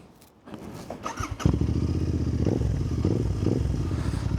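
Royal Enfield Interceptor 650 motorcycle engine firing up through its exhaust pipes, a brief clattery start then a steady, loud, close rumble with slight revving pulses.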